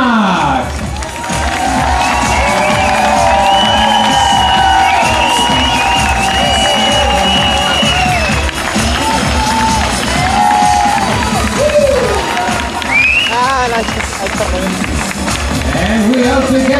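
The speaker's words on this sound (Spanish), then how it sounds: "Ponle gente que da fuerte aplauso para" A crowd at a Michael Jackson tribute show cheers and whoops loudly and continuously, with shouts and applause filling the space; voices ring out through the noise.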